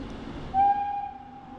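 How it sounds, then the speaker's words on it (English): Heritage steam train on a preserved Yorkshire line near Keighley and Haworth sounding its whistle as it approaches, a single loud, sustained tonal blast rising out of low rumble, with no talk. "I can hear the choo-choo. Here it comes."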